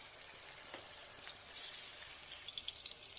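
Garlic and onion frying in oil in a pan, a soft steady sizzle with faint crackles, quiet and close without any talking.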